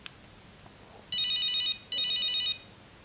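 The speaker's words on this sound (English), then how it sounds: "The second one is called Ring Ring." Nokia 6310 mobile phone playing its Ring Ring ringtone: two short bursts of rapid electronic trilling ring, each under a second, separated by a brief gap, clear and close with no voices.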